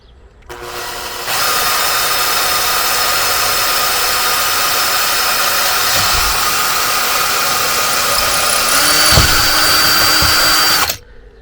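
A power drill runs steadily and loudly for about ten seconds while installing security hardware on a motorhome, its whine holding constant with a brief dip in pitch near the end before stopping.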